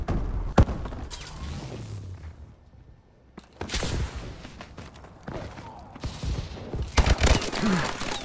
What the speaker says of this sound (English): I don't even know where I'm shooting my grenades